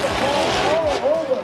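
Drift cars speed around a corner at a Formula Drift event, engines whining in rising and falling sweeps as they pass in quick succession, with voices talking over the roar.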